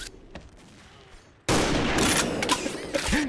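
Sniper rifle fire in the shooter game XSHOT: after a quiet stretch, a sudden loud gunshot blast erupts and rolls into a sustained burst of shooting noise, close and dominant.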